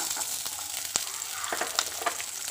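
Garlic frying in a pan for garlic pickle, with a steady close sizzle and scattered crackles and pops, no voices.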